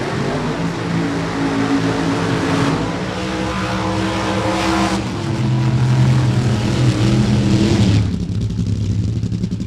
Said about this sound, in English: Crew's trying to get these funny cars fired up and ready to go